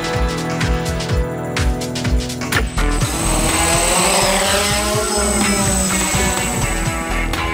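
A camera drone for aerial filming starts up over coastal salt fields: a few sharp clicks, then its rotors whine up into a steady, loud buzzing hum that carries on to the end.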